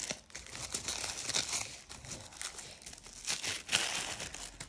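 Tissue paper wrapping an oracle card deck crinkles and tears during an unboxing. Quiet, close, irregular bursts of rustling and crackling carry on throughout, with no talking.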